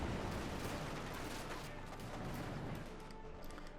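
Tank cannon and small-arms fire from a Panzer IV in the strategy game Company of Heroes 2, a dense continuous barrage of shots and booms heard mid-battle without voices.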